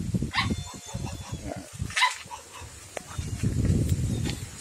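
A dog barks in short bursts outdoors on a chili and bitter gourd farm, with scattered yips over rustling background noise and voices.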